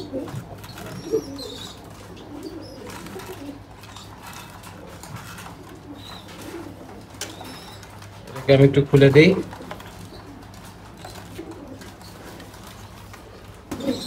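Pigeons coo in a home loft, faint and intermittent throughout, with a louder close burst of cooing partway through, under quiet talk and room noise.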